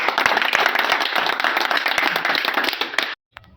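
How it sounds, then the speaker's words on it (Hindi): A crowd at a Holi get-together of reporters claps loudly and densely for about three seconds, then the applause cuts off abruptly into near silence with one last stray clap. "एक बार ताली हो जाए।"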